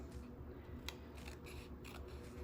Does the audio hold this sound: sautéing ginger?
no